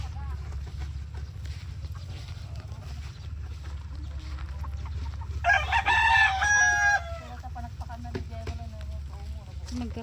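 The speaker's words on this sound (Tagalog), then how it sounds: "Mga manok, ang dami-dami." A rooster crows once, loud and close, amid a flock of chickens on a farm under a tamarind tree, over a constant low engine-like hum and faint scattered clucks.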